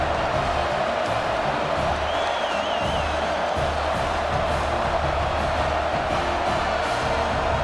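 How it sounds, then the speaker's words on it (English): A large, subdued football stadium crowd at a BYU versus South Carolina game makes a steady, broad murmur with faint scattered shouts and a brief whistle-like whoop, heard at a distance throughout. "boy, did that last drive quiet this crowd"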